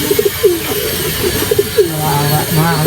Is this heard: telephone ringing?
no